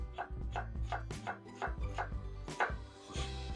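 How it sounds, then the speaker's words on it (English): Knife thinly slicing a shallot on a board, about a dozen crisp, evenly spaced cuts in a steady rhythm, close and clear with no talking. "So we're just gonna pretty thinly slice our shallot"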